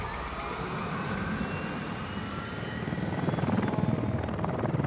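A rescue helicopter flies over remote Lake Augusta, its rotor chop and engine whine steady and fairly close, swelling louder toward the end, with no voices.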